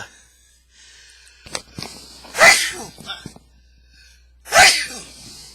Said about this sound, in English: Sneezed on YouTube